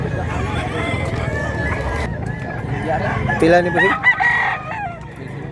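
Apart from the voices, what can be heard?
chickens and roosters at a market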